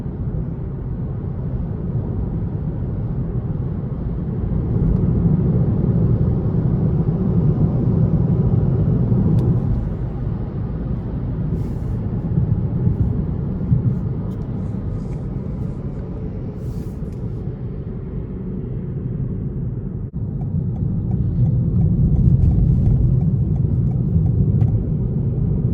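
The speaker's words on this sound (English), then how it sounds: "the powertrain itself is very quiet, especially at cruising speeds like this" A 2021 Toyota Corolla Hatchback XSE cruises at steady speed, its quiet powertrain blending into a continuous low road and cabin rumble that swells and eases slightly over time, with no voices.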